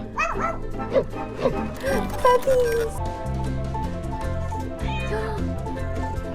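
Several cat meows in an animated film, some high and drawn out, mix with yips and playful music. A voice may be speaking underneath.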